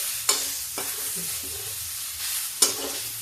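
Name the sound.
cabbage and peas frying in a pan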